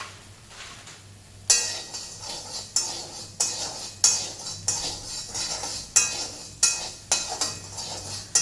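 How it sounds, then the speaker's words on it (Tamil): Rock salt being dry-roasted in a pan for garlic pickle, stirred with a utensil that scrapes and clinks in a steady rhythm of about nine strokes, each a bright, close, grainy rasp over low background hum, no talk. "கல் உப்பு போட்டு கல் உப்பை நான் வந்து வறுக்கிறேன்"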